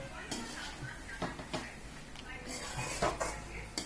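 Jaggery and raw mango stirred in a pot, with spoon scrapes and clinks against the metal in irregular strokes, close but fairly quiet over a low background murmur.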